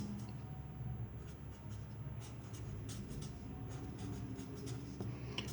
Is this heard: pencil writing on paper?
yes